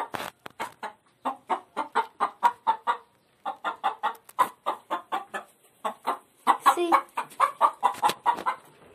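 Chickens cluck in quick repeated bursts, a steady rhythmic series of short clucks with a brief pause, close by and without talk.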